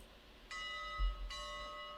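The bell of a little T-boiler Shay steam locomotive in RailRoads Online rings twice, two clear metallic strikes with long ringing overtones over a low engine rumble.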